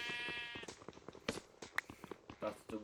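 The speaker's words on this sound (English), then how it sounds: "the sound of the sheep and cows though. It's really irritating." A sheep in the Minecraft video game gives a short wavering bleat at the start, followed by clicking game sounds and a person talking over them.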